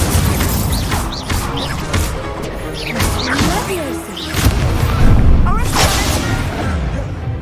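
Fire spell cast in Hogwarts Legacy during combat, a burst of whooshing flame and impact crashes layered over busy battle noise, loud and close, with several sharp hits across the stretch.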